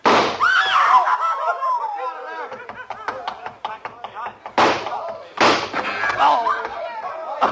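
Gunshots ring out in a radio drama scene, several sharp loud bangs in quick succession, with shouting voices before and after the shots.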